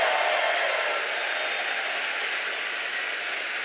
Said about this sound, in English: So Ben, Matt, and Adam, can everybody please make a huge round of applause for them?